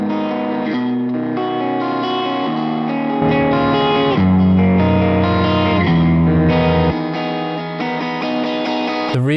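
A clean guitar playing a small chordal idea from a Quad Cortex amp profile with EQ, sustained and steady with rich layered tones and a brief change in the middle.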